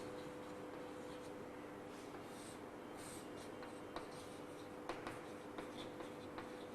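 Pen or marker writing labels on a biology diagram, a soft steady scratching with a few sharper strokes, close and quiet against a faint constant hum.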